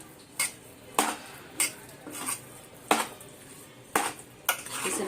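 Vegetable filling for veg tacos being stirred in a pan, with repeated sharp clinks and scrapes of a spoon against metal at roughly one-second intervals over a faint sizzle, close, no speech.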